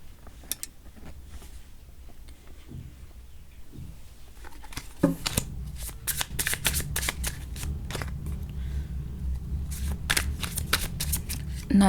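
A deck of tarot cards being shuffled by hand, a soft papery riffle and slap that starts faint and sparse, then becomes steady and louder through the second half, with no talking.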